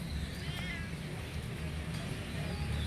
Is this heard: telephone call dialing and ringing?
no